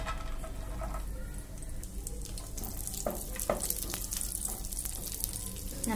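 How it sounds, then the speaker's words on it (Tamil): Cashews and raisins frying in ghee in a kadai, a soft, fairly quiet sizzle and crackle with a few light scraping stirs, no speech. "இப்போ நம்ம இதை நெய்யில் வறுத்து எடுத்துக்கலாம்."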